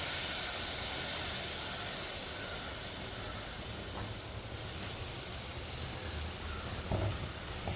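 Ginger tamarind mixture poured into hot oil with popped mustard seeds, giving a broad, steady hiss and sizzle that stays even throughout, with a few faint clicks near the end.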